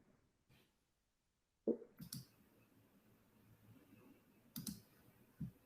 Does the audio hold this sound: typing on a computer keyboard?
yes